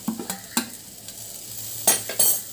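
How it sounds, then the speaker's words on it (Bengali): Crushed dried red chilies being stirred into a garlic bharta with a spoon, giving sparse soft scraping clicks and a few sharper taps against the bowl, close by and with no talk. "এখন ভালো করে রসুনের সাথে আবার মিশিয়ে দিচ্ছি।"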